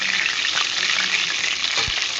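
A fish head frying in a pan sizzles loudly and steadily throughout, a dense close-up crackle with a brief low knock near the end.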